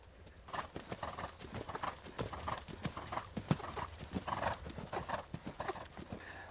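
Rhythmic clip-clop of a horse's hooves, steady and fairly close, with occasional neighs and stamping beneath.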